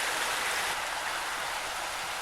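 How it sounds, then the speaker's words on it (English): Gentle stream water flowing over rocks along shaded ledges in a gorge at Karijini, Western Australia: a steady, close, hissing rush and babble with no pauses and no voices. "gentle flowing water for quite some distance"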